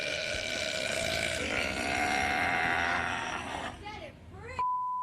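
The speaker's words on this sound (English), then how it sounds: "She belted out a belch that was measured at 107 decibels" Woman letting out a record-breaking loud belch, long raspy and sustained for several seconds, ending in a brief vocal tail and a steady tone.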